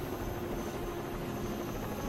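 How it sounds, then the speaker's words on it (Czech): Steady helicopter rotor drone in the video game Rainbow Six Vegas 2, a constant droning hum at a moderate, even level with no speech over it. "Helikopter."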